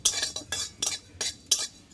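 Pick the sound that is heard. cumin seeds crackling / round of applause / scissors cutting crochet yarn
cumin seeds crackling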